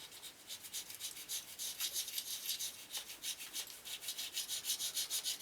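A small scraper works gently over a piston in a BMW E36 engine block soaked in WD-40, making faint, close, repeated short scratchy strokes in a steady rhythm with no talk.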